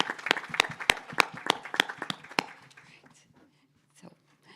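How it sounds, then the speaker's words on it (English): Audience at a medical school panel at Essence Fest breaks into applause, a burst of sharp, distinct claps that thins out and fades into near silence after about two and a half seconds. "So round of applause for Dr."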